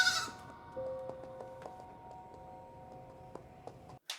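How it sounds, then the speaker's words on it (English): Baby goats bleat quietly indoors, several short thin cries in an uneven sequence, with faint ticking clicks and no talk. "there's baby goats on this floor"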